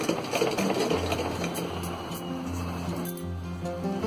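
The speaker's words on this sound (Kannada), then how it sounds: "ಮೇಲ್ಭಾಗಕ್ಕೆ ತಂದು ಮೇಲ್ ಹೊಲಿಗೆ ಹಾಕೊಂಡ್ಬರ್ಬೇಕು" A sewing machine topstitches a blouse with a steady, close mechanical whirring and rhythmic needle ticking that runs continuously for a few seconds at moderate loudness, with no voices.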